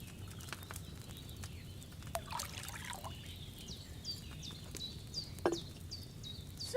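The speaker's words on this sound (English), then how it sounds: "First, you have to pour the right base into the cauldron." Wine is poured into a cauldron in Kingdom Come Deliverance 2, a short, faint splashing trickle set against a quiet ambience of chirping birds.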